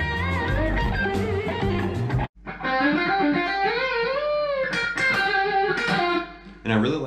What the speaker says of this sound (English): So it's like a bend, and then you shift higher and bend again.